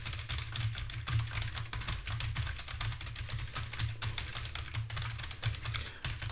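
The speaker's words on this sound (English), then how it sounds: "this is how it will be sounding when you're smashing on the keys" Fast typing on a computer keyboard recorded through a Roccat Torch USB microphone, a dense, continuous clatter of close key strikes with a low hum underneath, no talk.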